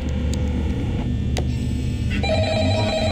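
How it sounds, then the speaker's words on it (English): An old-style telephone rings steadily in a quiet night-guard office in the Five Nights at Freddy's video game, its repeated bell tones sounding over a constant electrical hum. "How do I answer the phone?"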